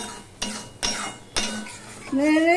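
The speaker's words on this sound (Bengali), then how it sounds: "আমি সমানে নাড়তে থাকবো," A spoon stirring taro leaves (kochu shak) in a cooking pot: three or four distinct metallic knocks and scrapes against the pot with short pauses between them, close by and moderately loud, ending in a brief tonal whine.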